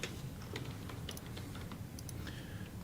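Quick, irregular keystrokes clatter on a computer keyboard, light and somewhat distant, over a steady background hiss and hum with no speech.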